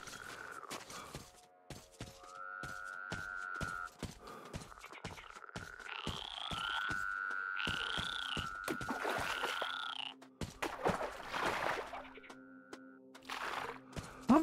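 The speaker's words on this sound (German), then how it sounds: "Die Frösche." Frogs croak in the video game Metro Exodus, a series of drawn-out, wavering calls repeating over a rhythmic patter of ticking game sounds, moderately loud with a busier, noisier burst near the end.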